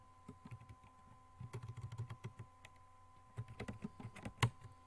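Typing a search query on a computer keyboard, with close, dry key clicks in short irregular bursts separated by brief pauses, with no voices.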